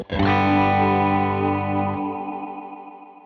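A sustained, heavily effected guitar chord through a Strymon BigSky MX reverb pedal rings out as presets switch, with a lush reverb tail that spills over, lingers and slowly fades after the playing stops.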